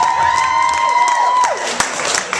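A live storytelling audience claps in scattered bursts beneath a steady ringing tone, with a few louder isolated claps toward the end.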